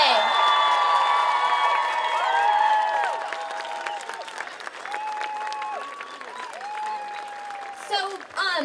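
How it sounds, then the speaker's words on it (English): Big crowd applause mixed with cheering, whoops and shouting at an outdoor climate strike rally in Seattle, loud and dense, fading slightly then swelling again with a few high-pitched yells on top. "Let's have one more huge round of applause for all of our youth speakers today."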